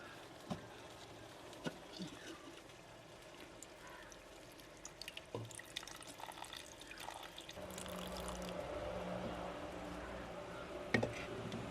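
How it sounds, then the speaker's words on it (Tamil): Water pours from a container onto a lime-sized lump of tamarind in a bowl to soak it, a faint trickle that swells into a steadier, fuller pour toward the end in a quiet kitchen. "இந்த புளிக்கு கொஞ்சம் தண்ணியை ஊற்றி ஊற வைப்போம்"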